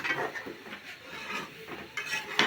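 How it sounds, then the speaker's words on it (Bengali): A spoon scrapes and stirs through olive pickle seasoned with panch phoron in a pan, making soft rhythmic scraping and light metallic clinks. The sound is fairly quiet and close, with no talking. "এখন আমি নাড়া দেব। এখন আমি ভালো করে মিশিয়ে দিব।"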